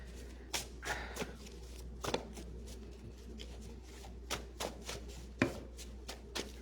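Oracle cards are shuffled on a table, giving a run of quick, irregular slaps and riffles close by against a low steady hum, with no talking.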